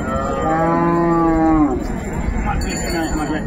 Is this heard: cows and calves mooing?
yes